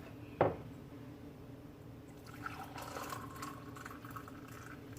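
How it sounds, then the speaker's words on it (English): Jamaican chocolate tea pours into a teacup with a soft, steady trickle, following a brief clink of dishware at the start. "I'm just gonna pour it in my teacup."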